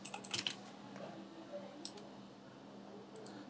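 Quiet clusters of computer keyboard keystrokes tap out a short phrase, faint clicks in a few brief bursts over a low room hum.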